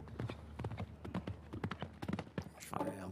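Horse hooves clip-clop in a quick, even rhythm on the course at the Luhmühlen CCI4* eventing competition in 2016, close and clear, with a commentator talking over them.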